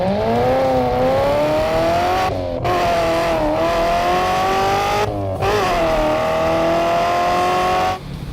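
A 2014 Lingenfelter C7 Corvette roars at high revs with loud, rising engine tones, gear changes with brief breaks, and faint tire squeal, close and continuous with no talking.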